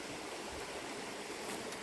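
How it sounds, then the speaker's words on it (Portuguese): A small, shallow river of clear water runs low after little rain, giving a steady, even rush of flowing water close by with no voices. "O rio ali embaixo, ali, ó. Vocês podem ver aí. Riozinho bonito aí, água limpinha."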